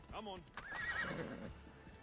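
A horse whinnies and its hooves clip-clop in Assassin's Creed Odyssey, a close neigh rising and falling, then steady hoofbeats underneath.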